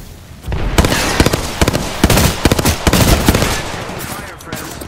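Rapid automatic gunfire rattles through a video game firefight, loud overlapping bursts and single cracks crowding the middle seconds before tapering off, with a player calling out over it.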